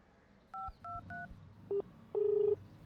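A phone call ends with a short run of electronic keypad-style beeps at several pitches, followed by a longer, steady closing tone. The beeps are clean, close and isolated, with no talking over them.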